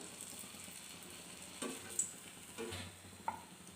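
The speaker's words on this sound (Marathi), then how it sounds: "आता मी हे तळून घेणार तर तेल गरम झालं की बघते मी तर इथं तेल गरम झालं" Bread pakoras sizzle faintly in hot oil in a home kitchen, a soft steady frying hiss broken by a few quiet clinks and scrapes of a utensil against the pan.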